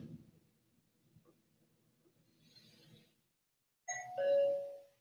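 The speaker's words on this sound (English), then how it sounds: "the doorbell's awesome, isn't it?" A doorbell chimes once near the end, a clear two-note ding-dong with a ringing tail after a stretch of soft rustling.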